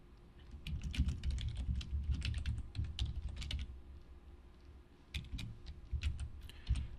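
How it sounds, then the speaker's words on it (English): Quick bursts of computer keyboard typing, including repeated Control-dot shortcut presses while coding, run steadily close by with short pauses and no voices. "I'm just hitting Control dot in order to get those quick commands"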